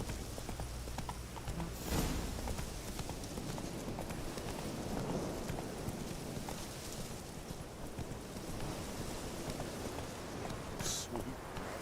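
Roach, the horse in The Witcher 3, gallops with steady clip-clop hoofbeats under a dense, continuous mix of game ambience and music, loud and close throughout.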